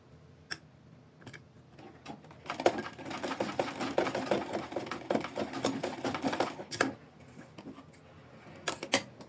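A domestic sewing machine stitches the seam of a handmade necktie in bursts of rapid, close mechanical ticking. Short pauses and a few sharp knocks fall between runs, and no one speaks.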